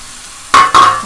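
Potato, onion and tender fenugreek leaves fry uncovered in a pan over high gas while being stirred, giving two loud, close sizzling bursts of scraping and crackle.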